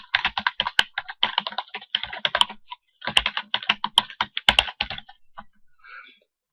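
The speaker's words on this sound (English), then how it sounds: "what we can do now is to type in any text we like now" Typing on a computer keyboard in quick, close clicking runs of keystrokes, with brief pauses between bursts and no talking, fading to a few light taps at the end.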